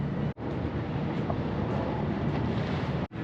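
Steady, strong wind roars and buffets the microphone at the stern of a World War II ship, broadband and continuous with two brief dropouts, no voices.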